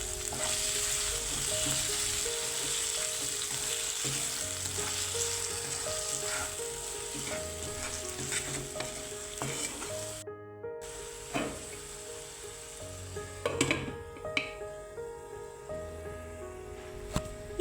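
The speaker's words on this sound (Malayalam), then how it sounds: "ഇനി ഇതിലേക്ക് ആവശ്യമായ ഉപ്പ് കൂടി ചേർത്ത് നന്നായി ഒന്നുകൂടി വഴറ്റുക" Kerala fish curry masala sautéing with salt in a pan, a steady close sizzle and fry with scraping stir strokes and occasional clinks throughout, no voices.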